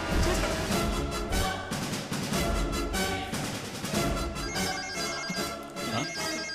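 Telephone ringing in a dramatic Telugu action film scene, a loud, continuous ring layered over a full, dense background score with no talk.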